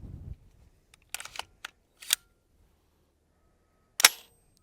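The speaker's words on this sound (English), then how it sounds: "try to drop the bolt on an AR just to kind of give you an idea how loud that is" An AR rifle bolt slams home about a meter away: a few sharp metallic clicks early on, then one loud, crisp clack near the end, with quiet gaps between and no talk.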